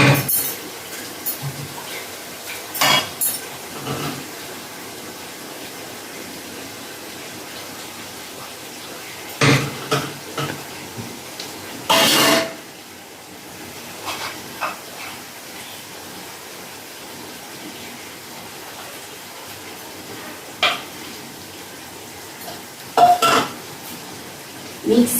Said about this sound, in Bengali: আচ্ছা এখন কষানো চলছে মশলা।